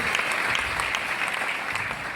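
Audience applause fills the hall, a dense, steady wash of many hands clapping at close range, sustained throughout with no talk over it.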